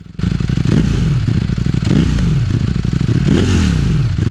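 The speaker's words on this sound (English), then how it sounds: "There is nothing that sounds like these Ducati V4s." A 2021 Ducati Streetfighter V4S motorcycle engine, loud and close, its V4 idling with a rough burbling pulse and rising in short revs that swell and fall back several times, with no voices.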